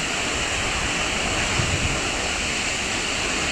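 The Chinari waterfall, near a pedestrian bridge, sends up a constant broadband roar of falling water. It is loud and unbroken throughout, with a slight rumble of wind, and no voices.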